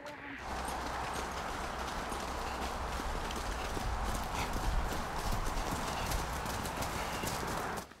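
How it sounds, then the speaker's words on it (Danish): Several ridden horses walk with steady, overlapping hoof clip-clops on a Norwegian farm during a riding lesson, loud and continuous throughout, with a faint voice occasionally underneath. "Nå har jeg en hest som ikke er vant til å gå i siden"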